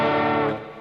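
A single electric guitar chord strummed out of tune just after tuning, ringing loud and distorted for about half a second before its volume drops sharply.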